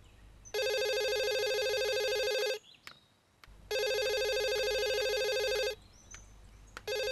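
A telephone rings in two long electronic bursts separated by a brief pause, loud and close in a Vietnamese home setting, with no speech over it.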